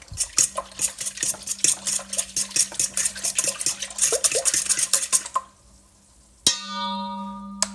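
A utensil briskly stirring sourdough starter ingredients in a bowl, rapid rhythmic scraping and clinking up close, then a pause and a single ringing clang as the utensil strikes the bowl's edge.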